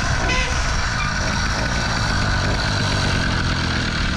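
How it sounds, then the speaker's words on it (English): A small 50cc petrol engine fitted to a mountain bike runs steadily and loudly, close by, a continuous buzzing drone with no pauses for the full few seconds. "I'm going to start the bike first though."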